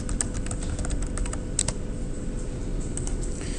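Quick clicking keystrokes on a computer keyboard while entering data into a spreadsheet, scattered taps in short bursts over a steady low room hum, no voices.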